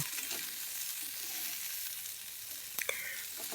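Cauliflower and green beans frying in a pan make a steady close sizzle, with a couple of quick utensil clinks near the end.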